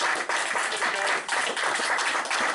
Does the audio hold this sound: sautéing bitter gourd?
no